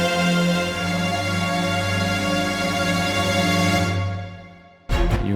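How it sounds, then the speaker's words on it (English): Jaeger cellos and basses layered with a Solo cello sample patch, sustaining low, rich notes for several seconds that swell and then fade, followed by a brief abrupt new attack at the very end. "I have the Jaeger cellos and basses and a cello from Solo."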